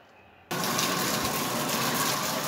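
Shower water bursts on after a quiet moment and keeps running in a steady, loud, hissing gush close to the microphone.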